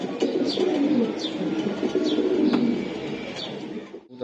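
Indian Nila high flyer pigeons coo in soft, repeated low calls close by, layered over a steady bed of further cooing and faint chirps.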